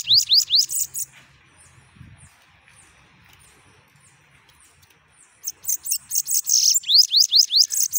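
Rapid bursts of high, sweeping chirps from a bananaquit open the clip, then a quiet stretch, then the chirping returns louder and faster, close by.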